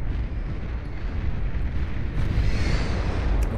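Nuclear cannon shells fired by an epic Czar unit in the strategy game Beyond All Reason, a dense, loud rumbling blast that roars steadily for the whole stretch with no talk.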